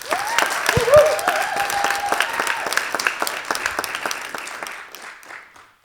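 An audience claps for a speaker at a leadership event, a burst of dense applause that swells near the start, then gradually thins and fades out over several seconds, with a few voices mixed in.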